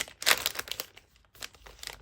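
Plastic packaging crinkles and rustles as a goodie bag parcel is unpacked by hand, in close, irregular bursts of crumpling with a short pause in the middle.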